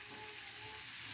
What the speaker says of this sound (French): ici, je vais verser mes légumes.